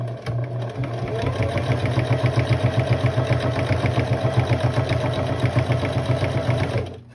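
Sewing machine stitching a pot holder, running steadily for about seven seconds with a fast, even mechanical rhythm, loud and close, with no voices.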